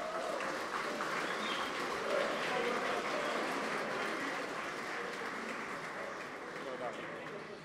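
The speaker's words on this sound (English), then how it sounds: "you should give yourselves a round of applause" Steady, dense applause from a conference keynote audience fills the whole stretch, holding even and fairly loud without breaks.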